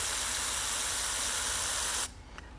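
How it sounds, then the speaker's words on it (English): A steady, close hiss of spray paint misting lightly onto flowers for about two seconds, then cutting off abruptly into quiet. "just spray very lightly"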